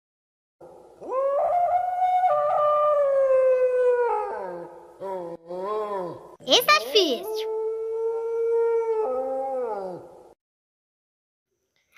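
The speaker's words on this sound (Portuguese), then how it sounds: "É o lobo." A wolf howls in long, sustained, wavering tones, several drawn-out howls with short breaks, while a voice speaks briefly between them.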